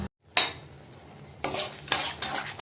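Cashews and raisins being stirred into sweet red poha in ghee, a few close scraping spoon strokes against the pan over a soft sizzle, with brief pauses between bursts and no talking.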